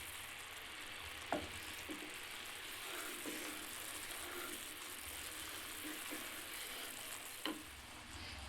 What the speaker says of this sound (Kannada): ನೋಡಿ ಕುದೀತಾ ಇದೆ, ಇನ್ನು ಅಂಟು ಪಾಕ ಬಂದಿಲ್ಲ.